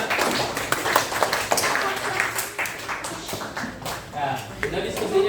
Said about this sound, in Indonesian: Tepuk semangat dulu kita.